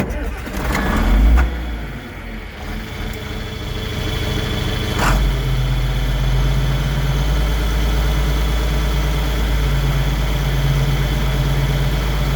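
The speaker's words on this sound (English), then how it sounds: "Let's start it up and see what we got." A John Deere 4440 tractor engine cranks briefly, catches with a rough burst, and settles into a steady, loud diesel idle close by, with no talking over it.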